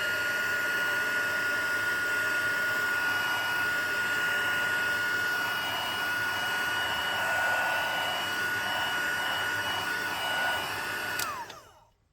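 Heat gun blowing steadily for about eleven seconds while heat embossing a Christmas card, a close, continuous whirring hiss with a high whine that cuts off near the end.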